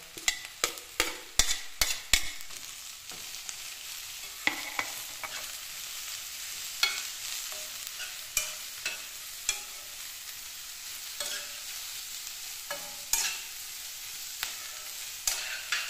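Beans and carrots stir-frying in a pan, with a soft continuous sizzle broken by repeated sharp spatula clicks and scrapes, close up and without speech.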